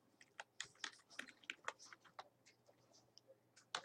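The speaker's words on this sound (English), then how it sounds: "It would help if I could type" Quiet, irregular clicking of a computer keyboard as someone types, with scattered light keystrokes and a few louder taps, no talking.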